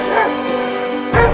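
A dog barks in short yipping bursts, two loud barks with a quieter bark between them.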